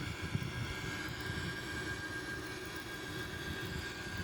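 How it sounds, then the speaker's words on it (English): An Airbus A340-313X jet rolls down the runway on takeoff, a steady loud engine roar with a broad rushing hiss and a low rumble throughout, no voices. "we just take off So we have an outside view again as we take off from the runway"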